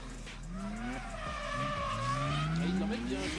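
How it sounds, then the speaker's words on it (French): An Audi race car drives through the final section of a track, its engine note rising and falling through gear changes, with tyre squeal, heard at a distance beneath commentary. "Et il l'emmène bien Jérémy dans cette fin de tracé là l'Audi."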